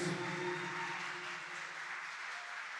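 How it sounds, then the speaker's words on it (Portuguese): A church conference congregation gives a pastor a round of applause, the clapping soft and distant, steady throughout with a faint tonal hum beneath it. "Receba ele com uma salva de palmas para o nosso Deus."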